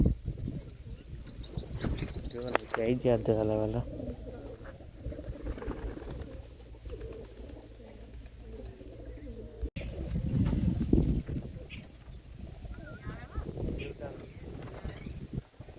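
Pigeons coo and flutter close by amid a busy rustling background, while someone speaks briefly over the birds.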